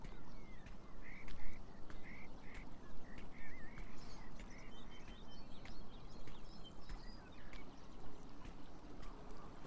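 A frog croaks repeatedly in the Beyond Eyes video game, short rhythmic calls over a bed of water and outdoor ambience, moderately close, with no one speaking.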